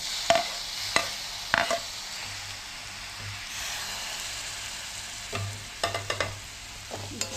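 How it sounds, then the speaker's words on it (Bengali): Spinach paneer masala with tomatoes sizzles steadily in a pan, with intermittent sharp clinks and scrapes of a spoon stirring through the frying. "এই সাথেই একেবারে আমি টমেটোও দিয়ে দিচ্ছি, দিয়ে একসাথে ফ্রাই করব"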